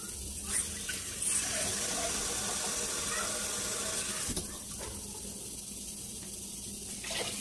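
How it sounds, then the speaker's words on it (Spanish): Water is poured from a glass over dry rice in a cooking pot, a steady close splashing gush that runs through most of the stretch with a brief pause midway. "voy a colocar 2 vasos de agua."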